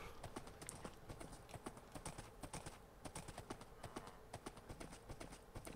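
Horse hooves clip-clop steadily in the Minecraft video game, a quick, even stream of light clicks at a low level with no talking over them.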